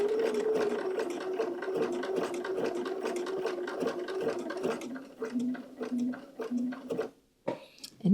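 A domestic sewing machine sewing on a button: a steady, close, rapid mechanical whir with a regular stitching rhythm that changes pitch near the end, briefly pauses, then stops.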